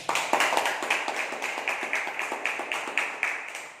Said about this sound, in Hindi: इनके लिए ताली से स्वागत हो जाए।